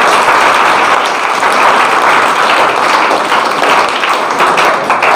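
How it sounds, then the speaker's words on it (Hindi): At a school prize ceremony in Maryadpur, Mau, an audience claps loudly and steadily for several seconds in a dense, continuous wash of applause, with no voices over it. "और तालियां होनी चाहिए दोबारा"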